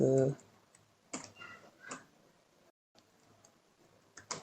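Scattered clicks and taps on a computer keyboard while code is typed, quiet and close, coming in short irregular bursts with pauses between them; a brief voice opens the stretch.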